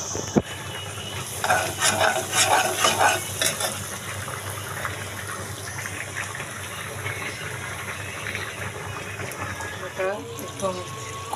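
Cinnamon, cardamom, dried chillies and cumin seeds frying in hot oil in a pan while being stirred, a steady sizzle with busy scraping bursts early on, fairly close, with a voice talking over it.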